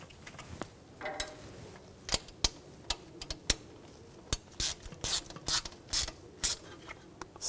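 A screw is tightened on the front ABS wheel speed sensor of a 2011-2018 Volkswagen Jetta, a series of close, sharp ratchet clicks in uneven bursts that come faster toward the end.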